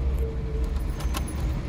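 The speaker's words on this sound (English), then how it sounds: "So let me turn the key" A Volkswagen car key turning in the ignition, heard as brief metallic jingles and clicks over a steady low rumble inside the car, close and fairly loud.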